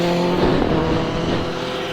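KTM 390 motorcycle riding on a highway, a loud steady roar of engine and rushing wind, close and continuous with no talk.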